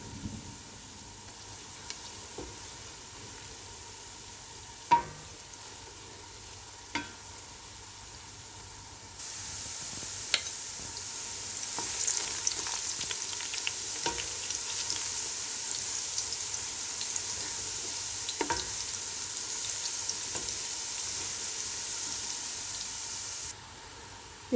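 Onions brown on a high flame for a chicken pulao, a faint bubbling fry that swells into a louder, hissing sizzle partway through, with occasional soft spoon taps and no talking.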